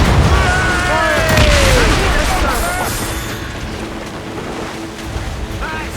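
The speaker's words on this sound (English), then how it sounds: "Cannon ready." Naval broadside fire in Assassin's Creed Rogue. Deep booming cannon blasts roll together over sea and ship ambience, loud at first and then fading into the surrounding noise.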